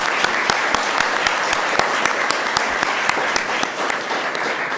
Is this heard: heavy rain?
no